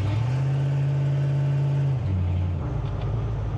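A Chevrolet Impala's engine revs under throttle with a loud, close, steady drone. Partway through, the pitch drops and the engine settles into a lower rumble.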